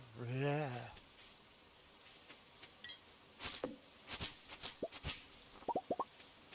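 Green rain falling in the video game Stardew Valley, heard as scattered plops and droplet pops after an opening tone, sparse and irregular with a quick run of drips near the end.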